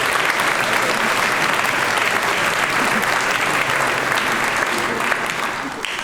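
Loud, dense applause from a large audience at a school speech day and prize giving, a continuous roar of many hands clapping that holds steady and eases slightly at the end.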